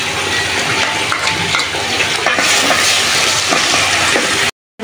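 Onions and spice masala fry in a pan, giving a steady close sizzle and hiss with faint stirring scrapes, ending in a sudden cut to silence.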